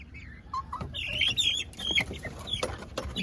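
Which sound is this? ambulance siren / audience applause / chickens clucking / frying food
chickens clucking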